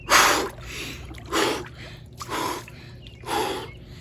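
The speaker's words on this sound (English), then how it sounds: "when I do heavy breathing like that" Heavy, forceful breaths taken in a steady series of about four loud, close exhalations and inhalations, preparing to get into a cold bath, with no talking.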